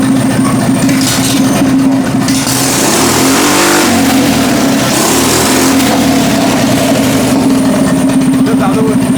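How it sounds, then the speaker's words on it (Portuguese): A homemade go-kart engine built with a window motor and cheap accessories drones loudly, its pitch rising and falling as the throttle is pressed, while people talk excitedly over it. "olha o naipe do acelerador"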